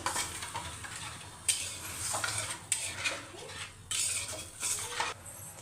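A spoon stirs a shrimp curry mixture with a little added water in a pan, making repeated scraping strokes against the metal over a soft, steady sizzle, close and alone.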